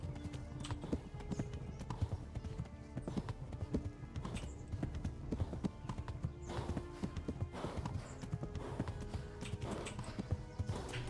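Horse hooves clip-clop steadily in the medieval game Kingdom Come: Deliverance, a close, continuous patter of hoofbeats with a brief whinny-like call and no talking.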